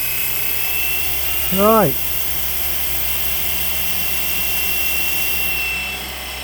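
A Flywing Bell 206 RC helicopter spools up with a steady, high-pitched rotor and motor whine running throughout. A brief spoken word cuts in early.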